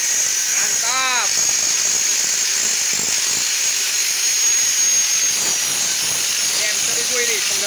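A diesel-driven M1000 chopper machine runs with a loud, steady high-pitched whine and roar, close by, with a voice speaking briefly over it.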